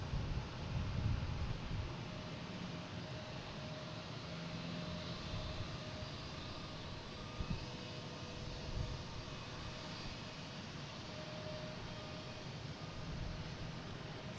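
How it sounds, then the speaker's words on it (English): A Southwest Boeing 737-800 takes off at Boston Logan, its jet engines producing a sustained, even roar with low rumble and faint whine, steady and fairly distant, with no voices. "next taking off, we have a Southwest heading to Baltimore Washington International"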